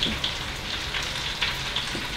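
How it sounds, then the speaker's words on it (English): Onions sizzle steadily in hot butter for burgers, a close, even crackle and hiss with small pops. "You hear that sizzle?"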